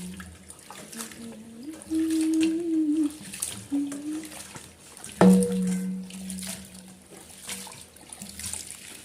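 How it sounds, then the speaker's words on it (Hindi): Spinach and potatoes being washed in water in a home kitchen, with faint running and sloshing water, a sharper splash midway, and a low steady hum underneath. "अब चलिए इसको पालक और आलू को अच्छे से धो लेते हैं।"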